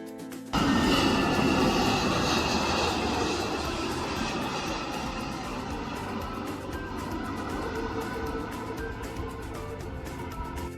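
A jet airliner powers past close to Nedumbassery airport in Kerala, its broad roar bursting in abruptly and staying loud and steady, easing only slightly over several seconds, with no talk.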